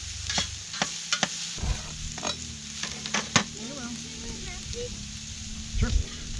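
Steak and diced mushrooms frying on a Tembo Tusk Skottle outdoors at camp, a steady close sizzle punctuated by scraping and tapping of a utensil as the food is turned, with people's voices faintly heard.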